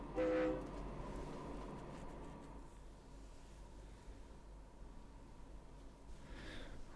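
A train in Train Fever gives a short horn blast, then moves off with a low, steady rumble of rail noise that stays faint and distant, with no talking.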